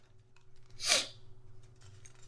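A single sharp, loud sneeze bursts out near the middle, with quiet room tone before and after, during a children's story about Elephant and Piggie.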